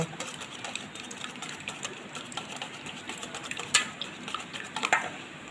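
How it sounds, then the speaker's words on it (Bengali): Eggs beaten with salt, chopped green chili and onion in a bowl, whisked with a steady rapid clatter of utensil against the bowl, close and fairly loud, with a few sharper knocks near the end. "এখানে ডিমটা আমি ফেটিয়ে নিয়েছি।"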